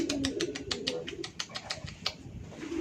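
Pigeons in a coop give soft cooing calls under a rapid series of light tapping or fluttering sounds, close by and fairly quiet.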